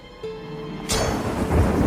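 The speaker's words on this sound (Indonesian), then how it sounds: "saat bersamaan hujan turun cukup deras" Heavy rain with thunder in a film scene: a quiet low hum gives way to a sudden loud, broadband rush of downpour and rumbling that stays steady and close to the end.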